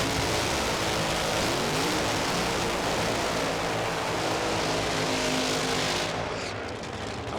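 A nitro funny car engine from the Aeroflow Outlaw Nitro Funny Car Series roaring at Sydney Dragway, a loud broadband thunder echoing around the valley-like venue for several seconds before easing slightly.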